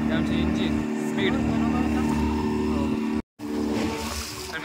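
A fishing boat's engine drones at speed with a steady, loud mechanical hum and water rush, a voice talking over it, briefly cutting out near the end.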